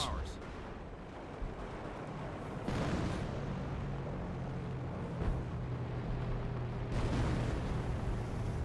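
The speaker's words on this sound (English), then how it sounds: "Sector artillery used" Sector artillery barrage in Company of Heroes: a few heavy booming impacts with broad rumbling blasts spaced seconds apart, set amid continuous battle noise, with voices talking over it.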